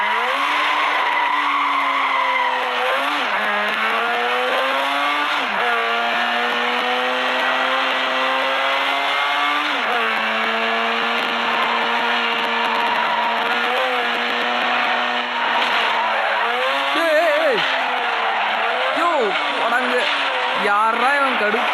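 Video game race cars roar with continuous, loud engine whine that rises and falls with gear shifts, punctuated by repeated sharp tire squeals and skids throughout.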